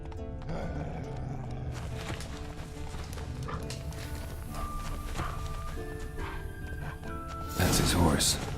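Horse hooves clopping in The Witcher 3: Wild Hunt, a soft irregular clip-clop under game music and ambient sounds, with voices talking over it and a louder burst near the end.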